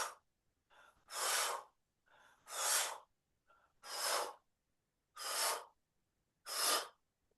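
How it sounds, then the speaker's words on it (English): Five slow, breathy exhalations through the mouth during a qigong exercise, each a soft whoosh lasting about half a second, with quieter inhales between them in an otherwise silent room. "Exhale through your mouth."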